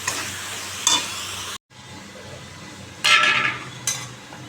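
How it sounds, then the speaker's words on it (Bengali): Fried rohu fish is sautéed in a pan, giving a loud sizzle and spatula scrapes and clinks against the pan. A brief break in the sound is followed by stronger bursts of stirring. "আজকে একটু কষাচ্ছি মাছটা ভাজলাম"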